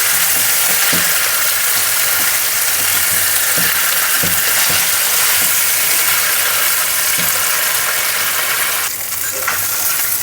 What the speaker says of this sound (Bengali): এরপর আমি 10 মিনিট ফুল হাই ফ্লেমে 2 পিস ভেজে নেব।